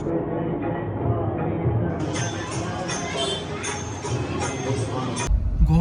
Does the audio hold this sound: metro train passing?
yes